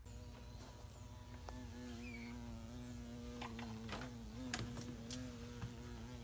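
A bee buzzes steadily nearby during work on a Fox Body Mustang's ECU, its tonal drone wavering slightly in pitch, with a few sharp clicks and taps of tools around it.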